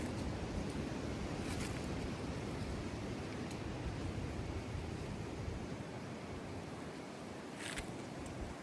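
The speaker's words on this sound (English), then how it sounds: "You can see how windy everything is blowing." Wind storm blowing around a tent, a constant rushing, buffeting roar with gusty microphone noise and a few sharp flaps, steady and loud throughout with no talking.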